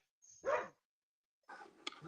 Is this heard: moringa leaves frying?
no